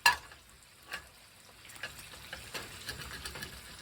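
Eggs fry in a small frying pan, giving a soft, low-level sizzle broken by light crackles and pops, heard alone with no talking.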